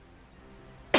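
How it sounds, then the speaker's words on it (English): A single short cough bursts out near the end after quiet room tone, close and sharp. "I just have a cough that will not quit recently."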